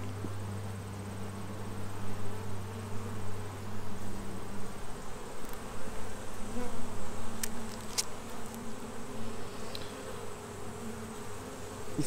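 Honey bees from Golden West queens swarm over a brood frame, making a dense, steady buzzing hum that stays close and continuous throughout, with no voices.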